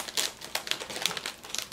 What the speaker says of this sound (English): Use scissors to cut apart